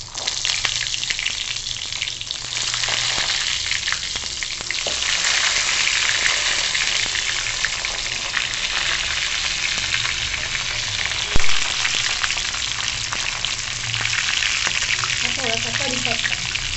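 Brinjals sizzle and fry steadily in hot oil in a pan with mustard seeds and asafoetida, a dense continuous crackle with occasional sharper pops, close and fairly loud throughout.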